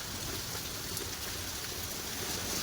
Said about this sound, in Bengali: বৃষ্টি কেমন হচ্ছে প্রচণ্ড বৃষ্টি